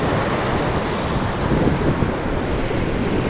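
Sea waves and strong wind at Mangalore beach, where the water looks dirty, make a continuous loud roar of surf with wind buffeting the microphone throughout, and no voices are heard.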